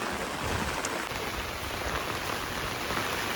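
Steady, even monsoon rain pours down in the hills near Matheran, a dense hiss of drops on surfaces with no pauses and no voices.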